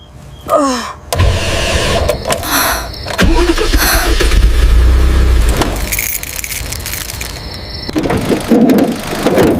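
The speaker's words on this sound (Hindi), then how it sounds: "न गाड़ी स्टार्ट हो रही है" An old, worn-out car struggles to start: loud grinding cranking bursts repeat with brief pauses and clunks, and the engine never catches.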